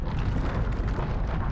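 A Confringo fire spell in Hogwarts Legacy erupts as a loud, sustained blast, a dense rumbling roar that holds steady for about a second and a half.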